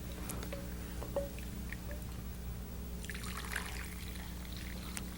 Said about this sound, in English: pour it into our bowl here